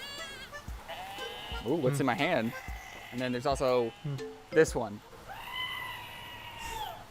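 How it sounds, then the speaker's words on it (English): A screaming goat novelty button plays a human-like goat scream a few times, loud and close, with a person talking between and around the bleats. "The screaming goat button."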